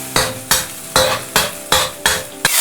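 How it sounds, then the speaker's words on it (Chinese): Ginger, garlic and small chili peppers sizzling in hot oil in a wok over low heat, with about six regular scraping stir strokes against a steady frying hiss and no voices. "油熱後放入薑蒜、小米椒，開小火炒出香味兒"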